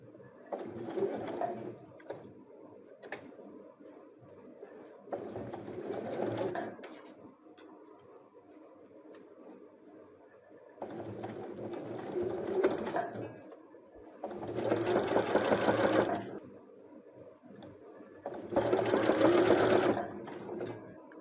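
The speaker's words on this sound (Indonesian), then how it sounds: "sekarang kita akan menjahit seperti biasa, diberi kain kecil terlebih dahulu" A sewing machine stitches fabric in several bursts of steady, rapid whirring, pausing in between, close and fairly loud, with quiet background sounds during the gaps.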